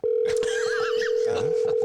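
A telephone dial tone hums as one continuous, loud, unbroken tone while a call is being placed, with faint voices in the background.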